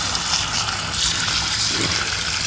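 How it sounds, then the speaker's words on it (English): Warm water gushes steadily from a wort chiller's discharge hose during home beer brewing, a continuous close splashing flow with no talk. "I've got the discharge hose coming out of here"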